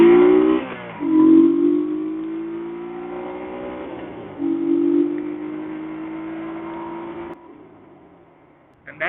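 A Honda PC800 Pacific Coast motorcycle accelerates hard from a standstill toward 60 mph, its engine note climbing through several gears with brief dips at each shift, loud and close, then easing off near the end.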